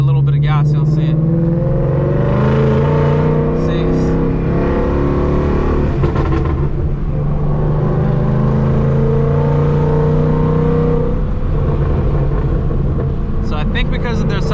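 A Ford Mustang with a Whipple supercharger kit and a 132 mm throttle body, its engine droning loud and steady inside the car, the pitch shifting unevenly under throttle, while someone talks over it.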